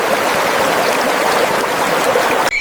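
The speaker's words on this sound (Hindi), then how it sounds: "नादी का पानी तेज था, गोश्त बह गया" Fast-flowing river water rushes in a dense, steady roar, loud and close, with no talk, ending abruptly.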